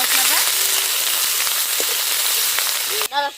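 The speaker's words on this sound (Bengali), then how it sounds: "জিরে পেঁয়াজ রসুন আদা এটা দিয়ে আমি একটু কষিয়ে নিই ভালো করে" Cumin, onion, garlic and ginger fry in a pan for a Bengali egg curry, giving a loud, continuous close-up sizzle with a brief voice and a clink right at the end.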